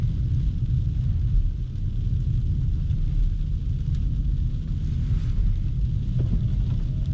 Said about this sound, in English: Now you could hear it on the windshield. It's just freezing rain right now at this point.